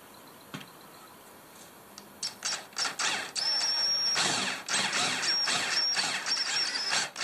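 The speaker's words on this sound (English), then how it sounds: "these are quite good for drilling a thin sheet metal" A drill whirs in short bursts then a longer steady grind as a bit bores pilot holes through thin sheet metal on a 2015+ Toyota Hilux for a snorkel, with a faint high whine, close by.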